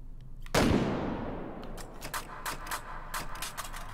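A rifle fires one sharp, loud shot down range on an outdoor bench setup, its report ringing out and slowly fading, followed by a few lighter mechanical clicks and taps.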